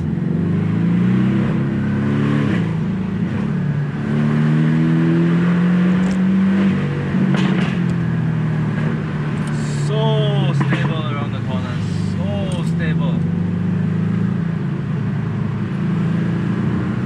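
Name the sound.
Porsche naturally aspirated engine accelerating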